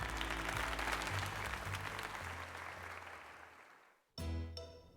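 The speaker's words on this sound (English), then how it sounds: "let us give another heartfelt round of applause to Gruffalo 14" Applause in the video game Pokémon Legends: Z-A during Jacinthe's tournament: a dense, even wash of clapping that fades out, then a short second burst of clapping at the end.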